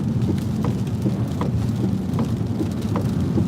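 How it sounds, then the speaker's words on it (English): Very heavy rain pours steadily during a flash flood emergency along the Highway 90 corridor in Kentucky, a loud, dense, continuous roar of water with occasional distinct splatters and no voices. "Very heavy rain here."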